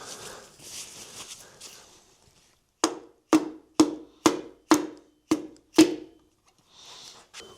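Eight sharp metallic taps of a hammer on an engine part at an even pace, each ringing briefly, preceded by soft rustling and handling noises, during a Doosan D24NAP engine rebuild.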